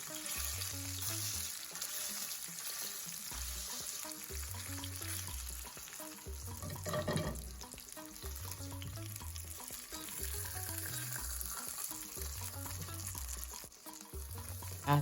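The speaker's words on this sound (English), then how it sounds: "I'm using coconut oil to pan fry this" Salmon pan frying in coconut oil, a steady close sizzle and crackle running the whole time with a soft stir or clatter midway, under background music and no talk.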